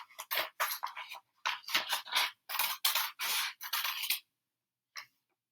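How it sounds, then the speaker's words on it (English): Scissors snip through a paper page along a printed line during a book craft: a close, quick series of crisp cutting bursts with short pauses, then a final single snip after a gap. "And I'm carefully cutting along the line."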